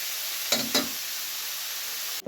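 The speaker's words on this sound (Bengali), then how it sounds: "এবার এই তেলের মধ্যে মাশরুমটা আমি পুরোটা দিয়ে দিচ্ছি এবার তেলের উপরে এই যে নাড়াচাড়া করে দেবো" Mushrooms in hot oil sizzle with a soft, steady hiss, broken by two quick scraping stirs and a louder clatter at the end.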